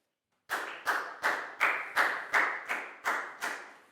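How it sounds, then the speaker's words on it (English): Eight slow, evenly spaced claps ring out one after another, close and clear with nothing else heard, in a primary English classroom as a round of applause for a young student. "Big round of applause for Net, please, guys."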